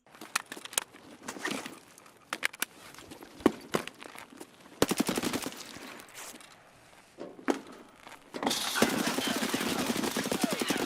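Gunfire in the shooter game Escape from Tarkov, sharp bursts of shots scattered among footsteps and movement noise, ending with a louder, denser stretch of firing.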